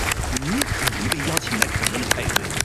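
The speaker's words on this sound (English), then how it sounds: "Okay, I'm gonna clap again." Scattered claps ring out in a loose rhythm under an ongoing voice, a small audience at a live Titanfall 2 speedrun event applauding.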